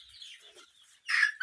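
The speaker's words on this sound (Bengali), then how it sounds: "মিশরীয় ফার্মে মুরগি" Egyptian chickens on a farm give a few soft clucks and chirps, ending in one louder, closer squawk, with no talking.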